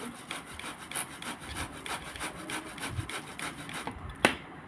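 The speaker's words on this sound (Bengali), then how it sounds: "2টো মাড়ি ঘষে, 2টো আটি ঘষে এতটা মাড়ি হলো।" Palm fruit seeds are rubbed by hand to scrape out the pulp for palm fritters: a close, steady back-and-forth scraping repeats in quick, even strokes and ends in a single sharper knock.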